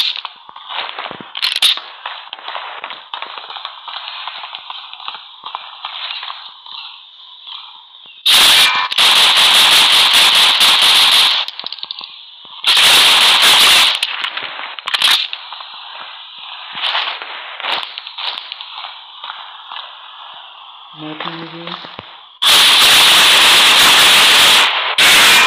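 Automatic gunfire from the mobile shooter Critical Ops comes in long, loud sustained bursts, with quieter game ambience and brief pops in the gaps between volleys.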